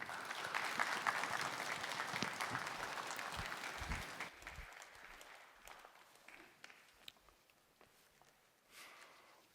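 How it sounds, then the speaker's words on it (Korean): A church congregation claps in welcome as the pastor comes forward at a prayer meeting, sustained applause that tapers into scattered claps and footsteps, then fades. "한 마음으로 환영의 박수로 모시도록 하겠습니다"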